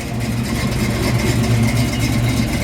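A 1968 Pontiac GTO's 6.5-liter engine rumbles loudly and steadily nearby, a deep continuous idle with a throaty low-end burble and no talking.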